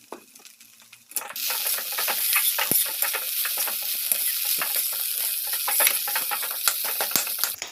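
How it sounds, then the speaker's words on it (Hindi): Leafy greens with salt stir-fry in a pan over a high gas flame. A loud, steady sizzle breaks in after a quiet second, and a spoon scrapes and stirs throughout with no speech. "गैस का फ्लेम थोड़ा हाई करके इसको अच्छे से भून लेना है"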